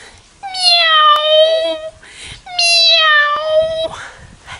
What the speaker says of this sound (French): Qu'est-ce que ça fait, un petit minou? Ça fait... Miaou!